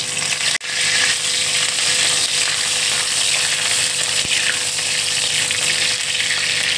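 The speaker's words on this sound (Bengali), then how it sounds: "এবার আমি কারি পাতা দিয়ে দিচ্ছি।" Curry leaves dropped into hot oil in a kadai burst into a loud, dense sizzle after a brief pause, then crackle and spit steadily and close up until the end.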